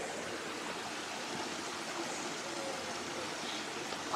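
A river rushes steadily past an open space near Barney bandstand, a constant broad wash of flowing water with no breaks or voices.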